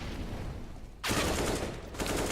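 Pistol gunfire in a CS:GO match, with a burst of rapid overlapping shots that starts abruptly after a quieter stretch, breaks off briefly, then resumes near the end, loud and dense with no voices.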